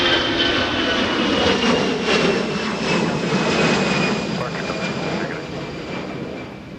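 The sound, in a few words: departing Delta Airbus jet airliner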